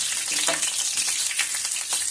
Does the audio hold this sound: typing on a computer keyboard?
no